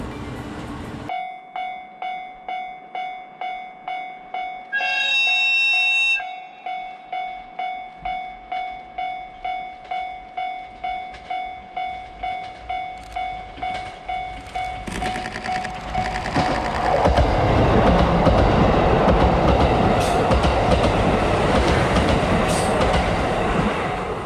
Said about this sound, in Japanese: 列車は倶知安の市街地を抜け、再び山林の方へ進んでいきます。